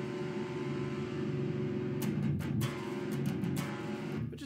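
Distorted electric guitar chords in a jam session, shifting from power chords to major-third voicings; a steady, dense strummed tone fills the whole stretch with sharper pick attacks toward the end, no talking.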